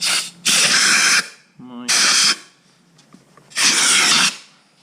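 Compressed air from an air compressor blows in three loud, close hissing bursts under motorcycle grips to loosen them, each burst about a second long, with a brief voice in one gap.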